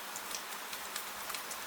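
Gentle rain falls on a night in old Edo as a faint, steady hiss, with soft, scattered drop ticks and nothing else over it.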